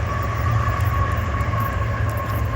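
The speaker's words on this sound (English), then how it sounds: "I don't know how they stand the noise of the train. That's what you guys might be hearing right now." A passing train rumbles loudly and steadily overhead in a park, a low continuous roar with a sustained tonal hum and no breaks.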